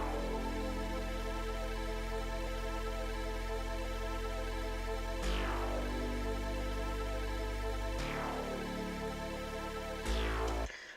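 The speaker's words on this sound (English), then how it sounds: "simple saw pad, which is in the intro here" Sustained one-note saw pad looping under a deep bass line in a drum and bass intro, steady and full, with bright sweeping transients marking each loop restart roughly every three seconds.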